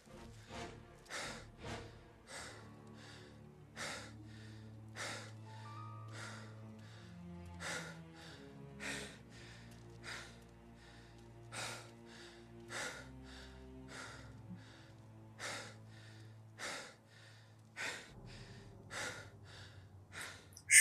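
A man pants heavily in the video game Mafia, a long run of rhythmic, breathy gasps close up, repeating steadily over a quiet, low musical background.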